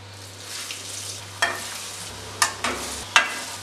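Potato murukku (aloo chakli) frying in hot oil, giving a steady soft sizzle with a few sharp clicks and splashes as the pieces are stirred and turned in a large pan.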